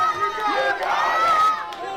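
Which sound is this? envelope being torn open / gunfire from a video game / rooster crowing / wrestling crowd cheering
wrestling crowd cheering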